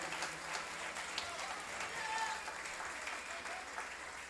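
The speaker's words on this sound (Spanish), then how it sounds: "Fuerte el aplauso para él." Audience applause fills a folk music gathering at a peña, a steady crackling wash of many hands clapping at moderate distance, with a brief voice under it.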